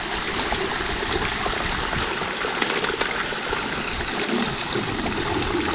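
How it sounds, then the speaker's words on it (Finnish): Water pours steadily through a highbanker sluice used for gold panning outdoors, making a loud, constant rushing and splashing that fills the whole stretch with no voices. "Noin, nyt loppuu vesi."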